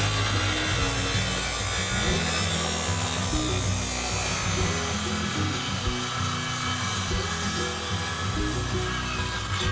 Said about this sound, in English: now that I've done the skill saw, we're gonna switch to a jigsaw to finish the cut